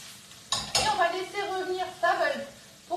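A utensil scrapes and clinks against a pan while leeks for leek tartlets are stirred, a few distinct clattering strokes under soft sizzling, with a person talking over it.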